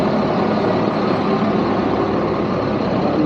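Buses and other vehicles idle at a busy bus stand in Makkah, making a steady low engine rumble that stays close and constant throughout with no speech.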